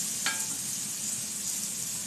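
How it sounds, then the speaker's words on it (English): Cabbage and onions hiss and sizzle steadily in a pan with browned bacon and a little olive oil, one brief sharp clatter near the start, with no talking. "We're going to put some cabbage and onions in here."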